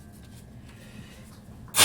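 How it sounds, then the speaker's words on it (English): A single loud sneeze bursts out at the very end after near silence, close and sharp, from someone beading a kaleidocycle during a stream. "I think I need to sneeze."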